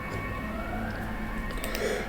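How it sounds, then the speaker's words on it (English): An unusual-sounding emergency vehicle siren wails faintly in the distance, its steady tones sitting under a continuous low background hum with no talking. "Didn't sound like the normal ambulances, but I've never heard police cars to sound like that either."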